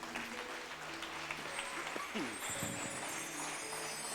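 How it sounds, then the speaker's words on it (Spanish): Congregation applause in a church, fairly faint clapping from a crowd mixed with voices and shouts, continuing at a low, even level throughout. "Denle un aplauso al Señor, vamos."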